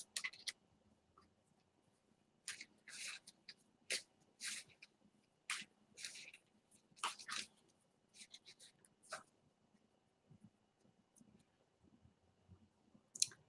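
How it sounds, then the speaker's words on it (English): Tarot cards shuffled by hand at a Halloween tarot party, giving a string of short, crisp riffling bursts in uneven clusters, close and fairly quiet, with soft pauses between and faint room noise beneath. "Okay, Isa, so I'm gonna shuffle the deck."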